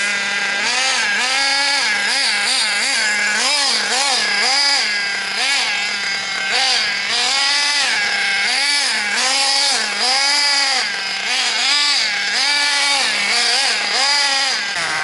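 Small engine running during break-in, a loud buzzing idle that surges and dips in a rapid repeating rhythm, close and continuous with no talk.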